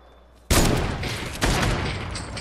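Gunfire in Fortnite, two loud bursts of rapid shots roughly a second apart, close and dense, each trailing off into a rumbling tail.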